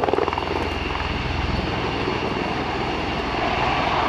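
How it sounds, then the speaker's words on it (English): A CV-22 Osprey tiltrotor lifting off vertically at an airshow, a loud, continuous rotor roar with rhythmic blade chop and engine whine, close and steady throughout. "Now watch him. They can lift off vertically."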